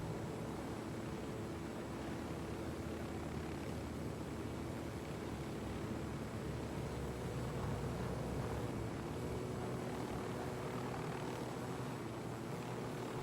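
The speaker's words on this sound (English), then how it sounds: "when you have helicopters with missiles attacking you, you have no idea when those missiles are coming in" Attack helicopters with missiles in the video game Ghost Recon Wildlands: a faint, steady rotor and engine drone that holds throughout, with no speech over it.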